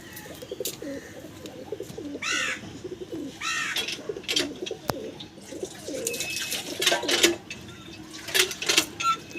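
Murshidabadi pigeons cooing close by, repeated soft rolling coos in uneven bursts, with rustling, light chirps and scattered background noises between calls.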